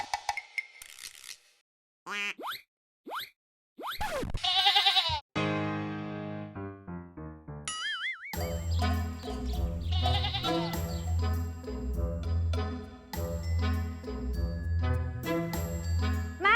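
Sheep at a farm cafe in Mon Jam during the winter season give several short, clear bleats with gaps between them. Music then starts and carries on to the end.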